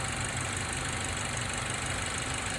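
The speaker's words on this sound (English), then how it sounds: "Engine sounding beautiful." A 2005 Mazda 3 with the 2.3-litre four-cylinder engine idles steadily after a valve cover gasket replacement, a continuous, even mechanical hum close by with no talking.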